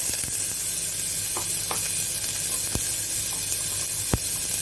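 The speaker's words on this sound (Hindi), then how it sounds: "तो ये अब मैं डाल रही हूँ इसमें प्याज" Sliced onions drop into hot oil in a pan, giving a steady loud sizzle with a few sharp pops and crackles throughout.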